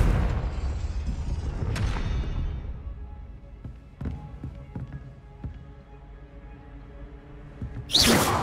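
Confringo blasting spell in Hogwarts Legacy: a busy game soundscape with a sharp blast near the start, several short thumping hits in the middle, and a bright crackling burst at the end.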